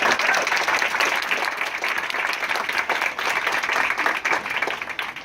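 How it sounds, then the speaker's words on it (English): Wedding guests give the groom and his bride a big round of applause during a best man speech, a dense, steady wave of clapping from a crowd. "let's hear a big round of applause for Paul and his beautiful bride"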